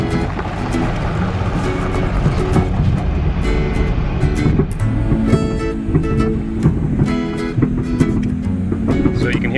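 A 2018 Subaru Crosstrek cruises through a neighborhood towing a small trailer, giving a steady, loud rumble of engine and road noise with rattling from the hitch and trailer throughout.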